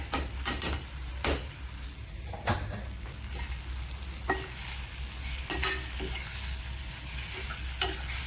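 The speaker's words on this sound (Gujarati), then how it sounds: "પ્રોપર મિક્સ કરીને ખાલી બે મિનિટ માટે ધીમા ગેસે સોટે કરવાના છે" Boiled potato pieces with turmeric are sautéed over low flame in a pan, a soft continuous sizzle broken by repeated sharp scrapes and taps of a spoon stirring them.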